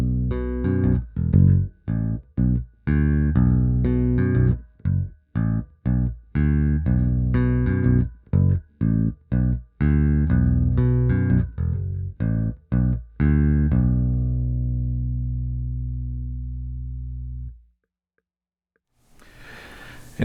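A Bass VI finger-picked through a bass line: clean, deep plucked notes in a steady repeating riff, played alone, ending on a long sustained note that fades to silence.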